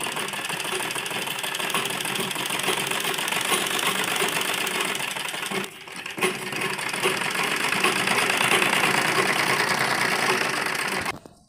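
A sewing machine runs a long basting stitch around two fabric pieces, a steady fast mechanical whir that pauses briefly near the middle and then resumes until it stops at the end.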